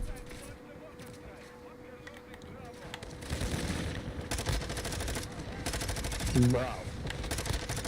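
Gunfire in a first-person shooter game: rapid bursts of automatic fire break out partway through and keep going, with a voice talking over the shots.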